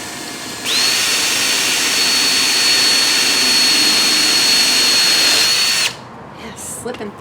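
A power drill bores drainage holes through a ceramic planter, giving a loud, steady high-pitched whine for about five seconds before it cuts off, leaving faint handling noises.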